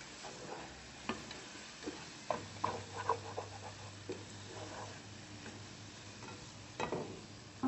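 Minced chicken keema being stirred in a pan for dum ka keema, giving a soft sizzle with scattered scraping clicks and taps of the spoon, faint and close, no voices.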